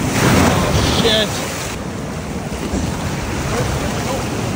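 Strong, roaring ocean surf churns loudly around a treasure-hunting boat. The noise is heavy with wind buffeting the microphone, and it eases a little after the first second.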